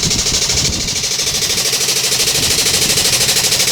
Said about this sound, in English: these boys are going to jack it up, all on hydraulics, better than me with my old levers